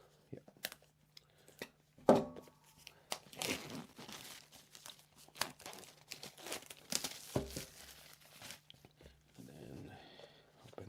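Packaging tape on a Nextbase 322GW dash cam box being cut open: close crinkling, tearing and scraping of cardboard and plastic in bursts, with a sharp rip early on and a voice speaking briefly.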